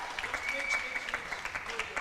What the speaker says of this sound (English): That shot warranted a few shouts from the crowd